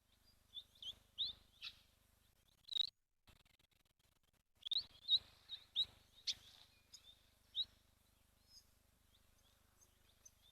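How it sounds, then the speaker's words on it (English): Grey-headed sparrows chirping at a waterhole in Lentore, Kenya: a scattered run of short, bright chirps and tweets, some close and sharp, others fainter, with brief pauses between bursts and no talk. "We've got some grey-headed sparrows."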